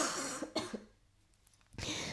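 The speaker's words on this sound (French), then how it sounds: "Excusez-moi, je vais tousser." A sick person indoors gives a couple of quick, quiet coughs close to the microphone, followed by a short hush before breathing or voice noise returns.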